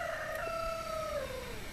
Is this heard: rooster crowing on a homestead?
yes